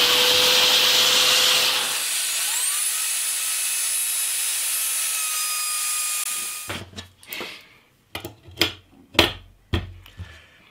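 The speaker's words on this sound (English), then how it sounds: "it helps if you plug the vacuum tube into the vacuum" A shop vacuum pulls through a hose on a scratch-built guitar, a steady loud whooshing roar with a whine that cuts off partway, followed by a series of sharp knocks and scraping bursts.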